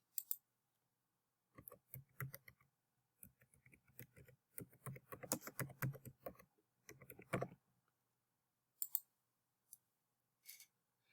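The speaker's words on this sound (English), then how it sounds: "we're going to type in the name of your bacterium in the search box" Typing on a computer keyboard, close and quiet, in irregular bursts of rapid key clicks separated by short pauses, ending with a few isolated taps.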